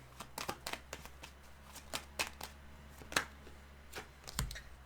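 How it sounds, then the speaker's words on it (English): Tarot cards are shuffled in a series of quick, crisp riffling bursts, close and fairly quiet, with no talking. "Just want to shuffle these up"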